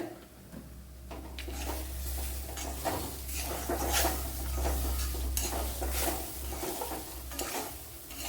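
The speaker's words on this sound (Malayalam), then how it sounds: "നല്ലപോലെ ഒന്ന് ഫ്രൈ ചെയ്തെടുക്കണം" Chammanthi podi is stirred and fried in a pan, with a soft continuous sizzle under repeated scraping strokes of a spoon against the metal, close and fairly quiet.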